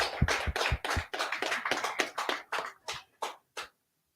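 Congregation at a Feast of Tabernacles closing service claps in a loose burst of about a dozen sharp hand claps, fairly close, thinning out and slowing toward the end.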